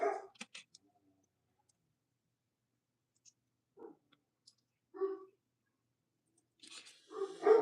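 A pet dog indoors gives a few short, sharp barks spaced several seconds apart. They are fairly faint, with a couple of quick clicking taps near the start and no speech.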